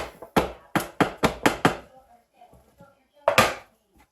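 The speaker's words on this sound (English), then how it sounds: "Let's not bounce the seashells around" Seashells knocking around hard, a burst of six sharp, loud clacks in quick succession, then a pause and one more loud clack, with faint rustling between.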